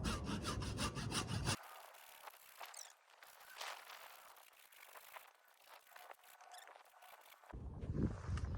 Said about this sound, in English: we'll take our feature baton here and we'll cut about an inch down all the way around it.